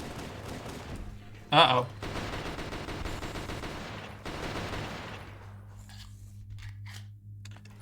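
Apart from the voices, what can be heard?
gunfire in Halo video game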